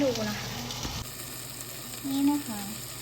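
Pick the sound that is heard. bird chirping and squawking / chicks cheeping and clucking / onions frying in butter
onions frying in butter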